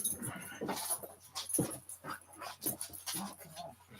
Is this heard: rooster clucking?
no